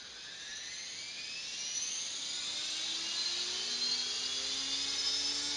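An RC helicopter's electric motor spins up in governor mode with throttle hold off. A steady high whine carries clearly rising tones, close and fairly loud, with no talking.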